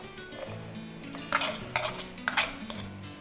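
Onions go into a pot while cooking lobster curry, with soft scraping and stirring and a few sharp clinks of a utensil against the pot.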